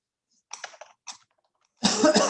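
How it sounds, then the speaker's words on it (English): A few quick, light keystrokes tap on a computer keyboard in a quiet room, followed by a short louder burst of clattering keys. "I'm copying this IME number and typing it in the SNDEEP"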